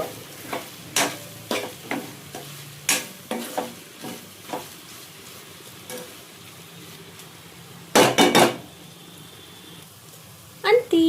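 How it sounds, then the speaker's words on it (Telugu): A spoon scrapes and clacks against a pan while okra tomato curry with coriander is stirred, giving sharp irregular knocks over a faint, low sizzle, with a quick burst of rattling clatter near the end. "కొత్తిమీర వేసేసుకొని ఒక్కసారి కలిపేసి"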